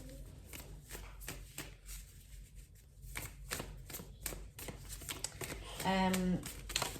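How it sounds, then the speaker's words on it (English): Tarot cards are riffled and shuffled by hand in a steady run of close, crisp flutters and taps, with a voice speaking intermittently alongside. "I'm going to just shuffle a little bit more."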